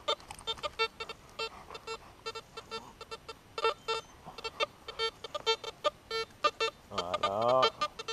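A Makro CF77 metal detector gives a rapid series of short, clear electronic beeps during ground balance adjustment, and the pulses change into a warbling, rising tone near the end.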